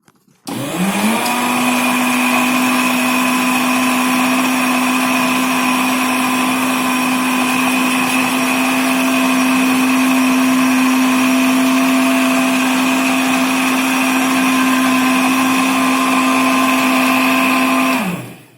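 A Biolomix blender with a dry jar grinds flour in one loud, continuous whine that spins up quickly, holds steady for about seventeen seconds, then cuts off.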